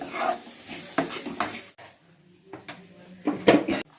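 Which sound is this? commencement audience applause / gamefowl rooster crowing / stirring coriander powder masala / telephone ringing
stirring coriander powder masala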